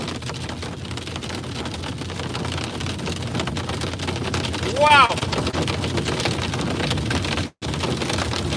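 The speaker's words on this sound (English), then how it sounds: "This is some pretty intense hail here, folks. Very intense, very loud." Intense, loud hail pounds down during a thunderstorm in Alberta, bouncing off a pond, a steady dense roar throughout with a brief exclaimed voice and a short dropout near the end.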